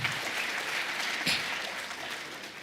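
Audience applause at a graduation ceremony for an executive intelligence management course, a steady wash of many hands clapping at moderate distance, fading slightly toward the end.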